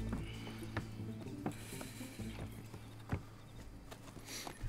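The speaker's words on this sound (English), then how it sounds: "Run, horses, run." Horses running in Red Dead Redemption 2 during a train heist: a loose clip-clop of hooves over rattling, clanking mechanical noise, moderately faint and with no voices.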